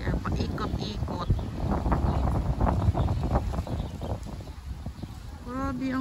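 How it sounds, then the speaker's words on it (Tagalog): Wind gusting across a Hong Kong waterfront, a steady broadband rush with passing noise nearby, heard under continuous talking throughout. "Sarap ng hangin."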